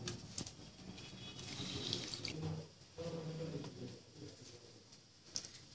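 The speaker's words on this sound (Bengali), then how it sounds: "বড়াগুলো আস্তে আস্তে সবগুলো জল চিপে আমি তুলে নেব।" Soaked dahi vada being squeezed by hand to press water out, with wet trickling and dripping sounds and soft splashes, fairly quiet and close, with no talking.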